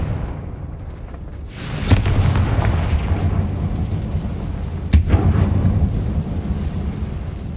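A Confringo blasting spell in Hogwarts Legacy, two sharp explosive booms a few seconds apart with rumbling tails, loud over steady game ambience.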